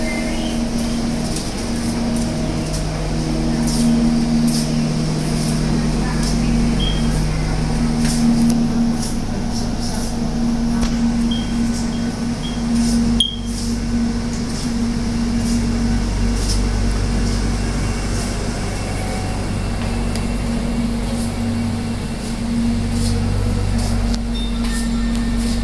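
Steady low rumble and hum inside a moving Soekarno-Hatta airport rail link carriage, with a constant drone, faint rattles and a brief clunk midway, no talking.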